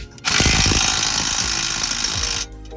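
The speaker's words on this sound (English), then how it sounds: "Get this lower ball joint bolt tightened very nice." An impact wrench hammers hard on the lower ball joint bolt of a 2016 Kia Soul's driver-side steering knuckle, a loud sustained rattling burst of about two seconds that cuts off abruptly.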